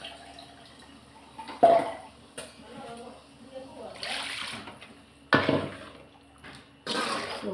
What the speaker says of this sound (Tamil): இப்போ நான் இன்னும் கொஞ்சம் புளி ஊற்றிக்கிறேன்